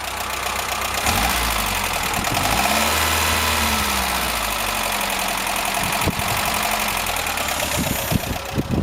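A 1989 Talbot Express motorhome (Autosleeper Talisman) with a 2-litre petrol engine idles steadily and loudly up close, a knocking rattle ticking through the running engine for the whole stretch.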